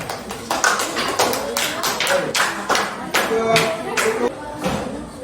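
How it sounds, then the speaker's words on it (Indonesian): Applause from a classroom of students for a group of classmates, a dense burst of overlapping hand claps running steadily throughout with a few louder peaks, close and lively. "tepuk tangan untuk kelompok mereka"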